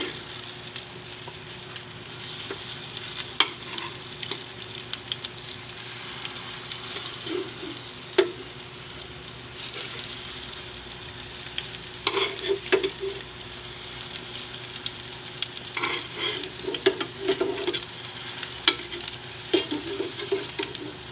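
Pork giniling patties sizzle steadily in a hot pan after being flipped, with a continuous bright frying hiss broken by occasional scrapes and clinks of a spatula.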